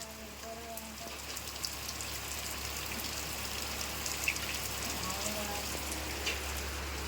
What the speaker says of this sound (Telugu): మళ్ళీ స్టార్ట్ అయిపోయింది ఫ్రెండ్స్ వాన అయితే.